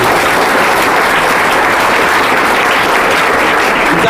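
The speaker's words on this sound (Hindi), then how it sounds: "जोरदार ताली" Loud, dense applause from a crowd of students and teachers at a school farewell ceremony for tenth-graders, a continuous close roar of clapping lasting several seconds without a break.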